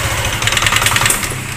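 A Yamaha Aerox 155 scooter, which has a battery charging fault, revs its engine at high throttle in one loud, rough and steady burst that cuts off abruptly.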